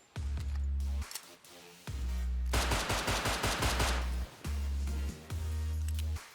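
A video game gun fires full auto in several sharp bursts of rapid shots, loud and close, separated by short pauses, with no talk.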